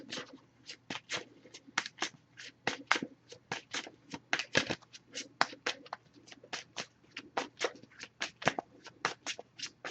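An oracle card deck is shuffled by hand in a steady run of quick, crisp riffling snaps, close and fairly quiet, with no voice over it.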